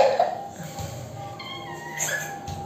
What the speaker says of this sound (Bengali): বিড়ালটা ও ক্লিপগুলো ক্লিপগুলো নিয়ে খেলছে।